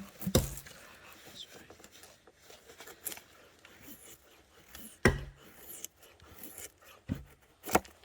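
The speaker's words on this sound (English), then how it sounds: "So we make like a feather sticks like this for the light to catch for the fire to catch the wood better." A knife shaves wood into feather sticks outdoors in a Finnish forest. Soft rasping strokes come close and quiet at irregular intervals, broken by a few sharper scraping bursts over low background noise.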